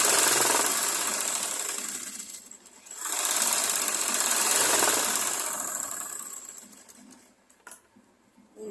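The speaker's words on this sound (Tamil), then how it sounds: "தையல் போடுறேன்." A sewing machine stitches a blouse seam in two loud, steady runs separated by a short dip, then slows and stops near the end.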